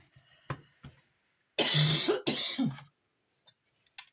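A person coughs and clears their throat nearby, with two loud, harsh bursts in the middle and smaller catches before and after.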